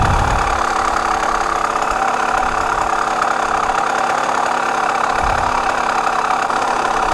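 A Yamaha TT-R125 dirt bike engine runs at a steady, close idle, a continuous buzzing chug with a slight knocking texture and no talking.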